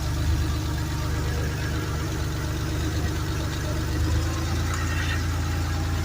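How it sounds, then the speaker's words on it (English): A Porsche 911 engine with Bosch CIS K-Jetronic fuel injection idles during a fuel mixture adjustment, a steady close rumble with faint ticking whose pitch shifts slightly midway; no talking. "You can hear the idle changing already."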